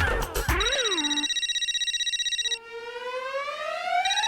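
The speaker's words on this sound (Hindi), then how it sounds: "लो, देखो मेरी बीवी का फोन आ रहा है।" A mobile phone rings with an incoming call from a wife in a Taarak Mehta Ka Ooltah Chashmah comedy scene: a loud electronic ringtone of bright warbling tones that shifts pitch midway, with no voices over it.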